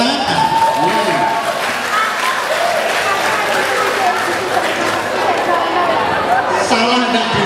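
School orientation audience, students in a hall, breaks into applause mixed with crowd chatter and voices, a continuous busy wash of clapping beneath talking.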